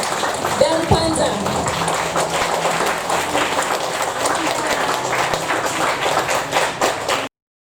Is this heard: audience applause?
yes